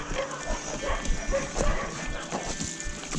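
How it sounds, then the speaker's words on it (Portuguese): A dog barks in short, repeated yips at some distance along a mountain-bike trail in the Cantareira forest, the calls coming in a loose rhythm over outdoor background noise. "Cachorro."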